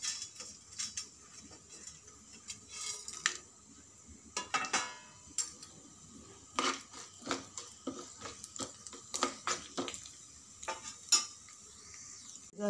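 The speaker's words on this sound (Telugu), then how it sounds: "హాఫ్ టీ స్పూన్ జీలకర్ర, హాఫ్ టీ స్పూన్ ఆవాలు, పచ్చెనగపప్పు, మినప్పప్పు అన్నీ వేసి కొద్దిగా ఫ్రై చేయాలి." Cumin, mustard seeds, chana dal and urad dal frying in oil in a pan for a traditional tomato chutney, heard as quiet, scattered crackles and light taps with irregular rhythm and no talking.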